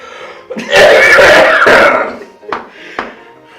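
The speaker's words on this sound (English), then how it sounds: "I cough." A loud, harsh throat-clearing cough rasps up close, followed by two short, softer coughs.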